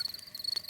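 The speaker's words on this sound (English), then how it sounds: "That is the sound of crickets chirping." Crickets chirp in quick repeated pulses, a thin high trill heard faintly in a short burst.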